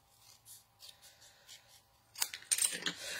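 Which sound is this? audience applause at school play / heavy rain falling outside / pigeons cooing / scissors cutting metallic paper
scissors cutting metallic paper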